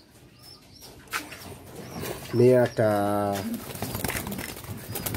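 A homing pigeon coos once, low and close, between brief bits of nearby talk and light rustling.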